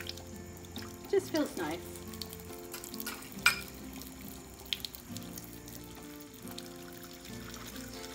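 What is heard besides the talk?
water running while hand washing dishes with suds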